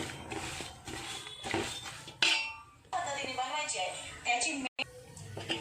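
Thin poha is stirred in hot oil in a pan for crispy chivda, with clinks and scrapes of a utensil against metal in irregular bursts, heard close under a speaking voice.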